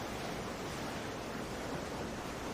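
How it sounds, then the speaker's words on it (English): Ocean waves wash in a soft, steady hiss of surf. The sound is faint and unbroken, with no clear breaks between swells. "sound of the ocean feels inside of you as you begin to breathe out"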